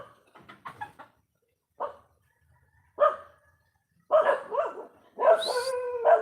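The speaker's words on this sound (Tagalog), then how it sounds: "Bawal ba yung tumatahol yung aso" A dog barks in scattered bursts, starting with quick yips and ending in longer, louder barks and a whining howl, heard fairly close with quiet gaps between.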